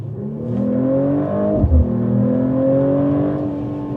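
A Mercedes-AMG CLE53 accelerating on the road, its engine note climbing steadily in pitch, dropping briefly at a gear change, then rising again, heard loud and close from inside the car with no talk.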